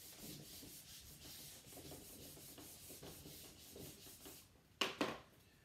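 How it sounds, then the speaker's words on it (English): Steady dry rubbing of an eraser across a drawing board, a continuous scrubbing texture close up, ending with two sharper scrapes, no voices. "I'm just going to erase the screen and start over at this point"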